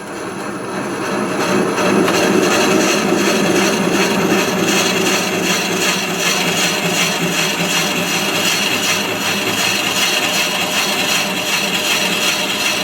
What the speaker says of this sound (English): End grain is pretty hard to drill.